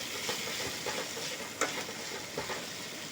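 Vegetables fry in a pan for upma, with a constant hiss of sizzling oil and a few light scrapes as they are stirred, close by and with no voices.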